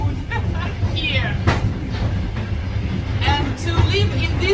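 Inside a passenger railway carriage, a loud, continuous rumble of a moving train with rattling and faint squeals, while voices talk underneath the noise.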